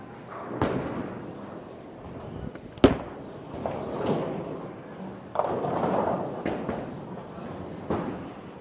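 A Storm EquinoX bowling ball on a house-shot lane: a sharp thud at release, then a rolling rumble down the wood and a clatter of pins, with alley noise around it.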